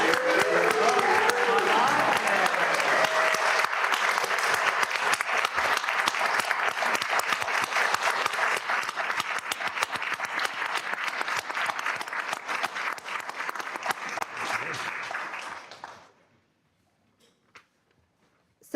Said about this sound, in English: we are all going to give a round of applause and congratulate you as you sign your oath of office